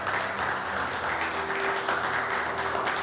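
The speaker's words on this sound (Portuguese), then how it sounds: "Você pode aplaudir essa palavra poderosa de Deus?" Church congregation applauding after a sermon, a dense, even wash of clapping that runs steadily throughout with a faint tonal hum beneath it.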